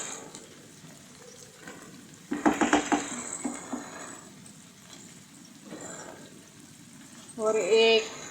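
Lasoda (Cordia myxa) fruit frying in a pan on the stove for pickle, with bursts of sizzling and stirring clatter against the pan, rising louder near the end, with a voice speaking at times.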